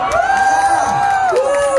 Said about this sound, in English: Can we get a cheer for you guys for being so great with that song?